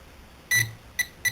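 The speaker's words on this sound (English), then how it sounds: "that little beep, beep, beep, that's what you want" A Garrett ProPointer pinpointer metal detector beeps over a dime: one longer high-pitched tone, then two quick short beeps, close and distinct over a quiet background.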